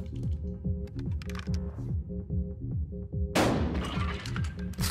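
A shotgun blast in Buckshot Roulette cracks out loud and close partway through, its burst ringing over a steady game music loop with rhythmic low thumps.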